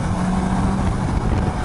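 A Suzuki GSX-S750 motorcycle with its stock exhaust, riding on city streets in Tokyo, giving a steady, full engine drone with wind rush, no speech.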